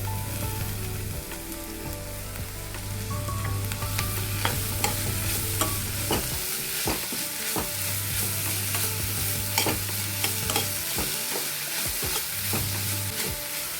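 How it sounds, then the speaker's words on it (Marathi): Chopped moringa leaves stirred in a frying pan, a continuous close sizzle with scattered scraping stirs throughout and a low hum that comes and goes. "आता आपण इथे ही भाजी जी चिरलेली आहे ती घालायची आहे"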